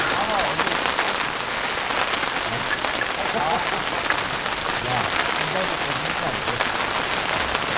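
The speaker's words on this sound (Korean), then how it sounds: "빗소리가 들으니까 엄청 좋긴 하네요." Rain falls steadily on a tent during a solo camping trip in wind, a dense continuous patter of drops close by, with occasional louder taps and faint voice in the background.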